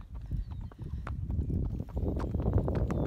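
A Tennessee Walking Horse walks along a trail, its hooves striking the ground in a steady, close clip-clop rhythm that continues throughout.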